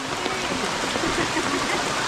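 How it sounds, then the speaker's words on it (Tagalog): Steady rain falls on a roof beside the Dumacaa River, a dense continuous hiss with no breaks throughout, heavy and close. "Inabot na ng ulan."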